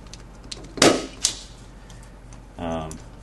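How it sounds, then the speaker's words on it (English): A punch down tool seats network cable into a structured cabling connector, giving two sharp snapping impacts close together, then a short buzzing rasp, with someone speaking around them. "Now when I use a punch down tool"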